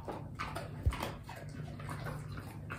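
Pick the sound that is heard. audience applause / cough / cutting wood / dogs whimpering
dogs whimpering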